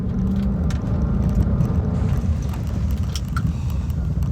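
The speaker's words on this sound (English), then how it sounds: "It's a standard car, but with it being the V8, it sounds absolutely phenomenal." Porsche Cayenne Turbo with its stock 4.8 V8 and standard exhaust, lifted on chunky off-road tyres, runs as a steady, loud low rumble throughout, close and continuous with no voices.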